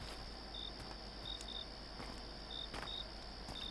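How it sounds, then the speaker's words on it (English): Crickets chirp at night in O'Brien State Park, faint high trills repeating in short bursts over a quiet hiss, with no voices. "The sound is nice. Crickets."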